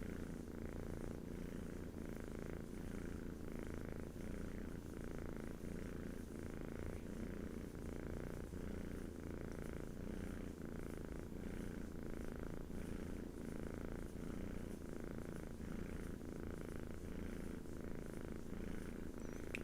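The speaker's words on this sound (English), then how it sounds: "this is a purring Hattie kitten" A kitten purrs softly and continuously, a close, even rumbling rhythm that carries on without pause.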